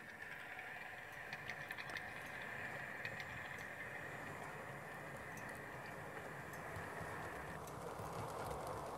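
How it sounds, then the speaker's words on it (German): An eight-car IC train hauled by a class 101 locomotive with a cab car departs a station: a faint, steady rolling rumble with soft rail clicks and a sustained tone that cuts out near the end. "So, und Ausfahrt hat hier auch unser IC mit der 101"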